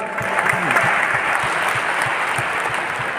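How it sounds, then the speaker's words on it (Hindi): Audience at a business seminar breaks into strong, steady applause, a dense wash of claps sustained throughout, with some crowd voices and rhythmic low thumps beneath it. "एक बार जबरदस्त ताली मिलना चाहिए"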